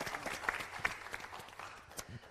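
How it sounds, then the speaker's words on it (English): Audience applause for a student team at a showcase event, faint, moderately dense clapping from a small crowd, with individual claps standing out irregularly across a couple of seconds. "A big hand of applause for Water is Life."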